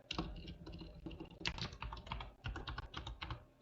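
Fingers type a password on a computer keyboard, a close, busy run of crisp key clicks in irregular bursts with brief pauses between, and no voices.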